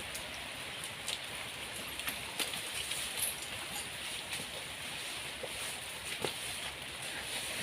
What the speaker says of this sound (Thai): ฝนตกหนักครับ